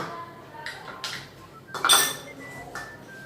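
A metal spoon scrapes and clinks against a container while scooping out a homemade hair oil mixture, giving a few sharp, separate taps and scrapes up close with short pauses between them.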